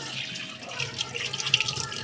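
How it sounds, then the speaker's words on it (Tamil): New lamps — one large and two small, bought for the Karthigai Deepam festival — rinsed by hand under a running tap, with a steady splashing water stream near the microphone and faint clinks and handling sounds, no talking. "புது விளக்குலாம் வாங்கியிருந்தோம், அதெல்லாம் வந்து கழுவி வச்சிடலாம் அப்படின்னு சொல்லிட்டு கழுவிட்டு இருந்தேன்"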